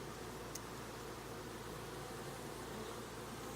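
Honeybees buzz steadily around a foundationless hive frame built of bare wooden sticks, a dense continuous hum with faint hiss, close and even throughout with no speech.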